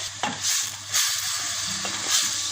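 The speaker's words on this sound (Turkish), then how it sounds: "Ve güzelce soteleyelim, kavuralım." Chopped vegetables and garlic sauté in oil for lentil soup, a close sizzle that swells in short bursts as the pan is stirred, with no talking.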